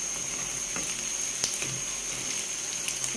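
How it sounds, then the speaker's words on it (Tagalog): Steady crackling sizzle of tofu frying in hot oil, continuous and close, with a few sharper pops breaking through. "Nagpiprito po tayo ng tokwa."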